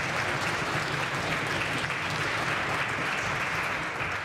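A legislative assembly chamber gives sustained applause for the Pro Coro Canada chamber choir, a dense, steady clapping from a large standing crowd that continues evenly throughout.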